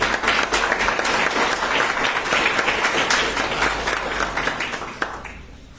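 Sustained applause from an audience for a jury member at an oratory contest during a cantonization anniversary celebration, steady dense clapping that fades slightly toward the end.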